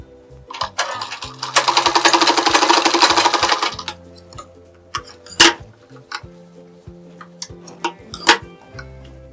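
A sewing machine stitching the lining of a blouse, one sustained run of rapid mechanical whirring and ticking lasting about three seconds, followed by scattered clicks and handling taps of the machine and fabric, close by with no talk.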